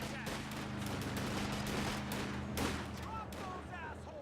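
Gunfire in the World War II strategy game Company of Heroes 2, a steady low rattle of distant battle sounds running under faint voices.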